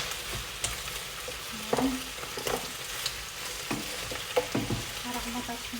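Garlic and onion fry in a pan for tinola, giving a soft, fairly quiet sizzle with occasional light stirring clinks and scrapes.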